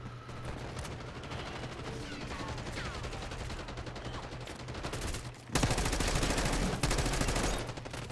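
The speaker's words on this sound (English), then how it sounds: "Who the fuck shooting?" Call of Duty gunfire rattles in rapid automatic bursts, a dense run of sharp shots that grows louder and heavier partway through, with no talking over it.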